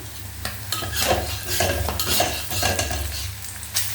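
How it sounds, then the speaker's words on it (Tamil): Curry leaves dropped into hot oil in a pan on a stove, a loud, close crackling sizzle with scraping stirs from a utensil, continuous and without talk. "கொஞ்சம் கருவேப்பிலை போட்டுக்கலாம்."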